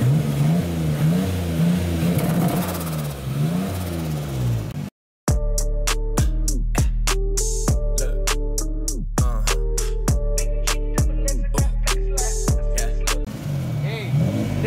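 A boosted Nissan 350z with a 2-step launch control: a loud droning engine idle and rev, a brief cut, then rapid machine-gun-like backfire pops and bangs crackling in quick bursts at close range.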